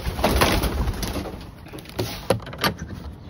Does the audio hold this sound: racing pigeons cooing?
yes